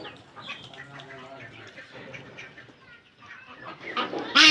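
Ducks and chickens on a small farm in Bangladesh at feeding time, scattered clucks and quacks mixed with soft talk and rustling, with a louder squawk near the end.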